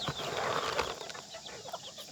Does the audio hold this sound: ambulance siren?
no